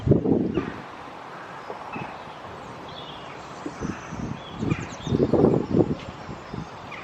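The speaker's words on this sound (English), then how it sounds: "Very blustery day today." Strong gusty wind blows outdoors on a blustery day, buffeting the microphone in uneven low rumbling bursts, with faint bird chirps in the background.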